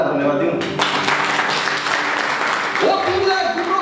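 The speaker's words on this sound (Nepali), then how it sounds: "तिम्रो तालीबाट धन्यवाद दिउँ" Congregation clapping at a church service, a dense burst of applause that swells and sustains, with a preacher's voice carrying through it.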